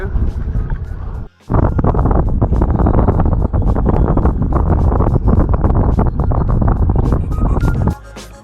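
Strong wind blows hard across the microphone among the Scottish isles of Jura, Islay and Colonsay, a loud, continuous roar with a brief lull early on.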